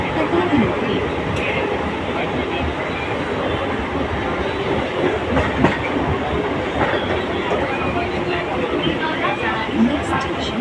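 A Mumbai local train pulling out of Marine Lines station, its wheels clattering steadily over the rails with a continuous rumble and passenger chatter mixed in throughout.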